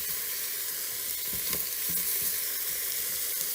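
Beef browning in oil in an Instant Pot for a stew, sizzling steadily and close, with a few sharp pops and crackles as the meat is turned in the pot.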